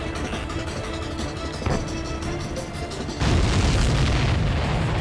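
Deep booming blasts and rumbling from Ace Combat 7 video game explosions, with a sharp impact midway and a louder, heavier explosion burst near the end.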